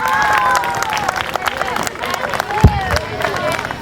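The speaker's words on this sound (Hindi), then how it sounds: "इतनी एनर्जेटिक परफॉर्मेंस के लिए वंस अगेन जोरदार तालियां" Audience at a Gold Life School farewell party claps and cheers after an energetic dance performance, a dense wash of applause with crowd babble throughout and one sharp thump near the end.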